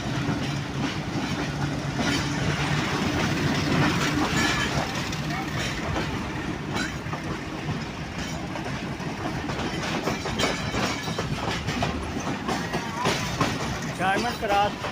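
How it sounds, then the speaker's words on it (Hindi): A train led by HBU-20 locomotive 8046 on the PD Khan to Malakwal shuttle rolls over a diamond crossing near Malakwal junction. It makes a close, steady rumble with repeated clickety-clack wheel clatter throughout. "डायमंड क्रॉस के पास से गुजर रही है ट्रेन।"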